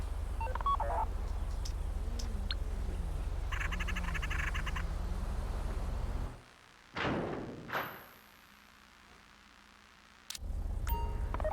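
Phone keypad dialing tones from a GTA Online Fleeca heist, a quick run of short electronic beeps over steady game background noise, then a near-silent gap and a burst of sound.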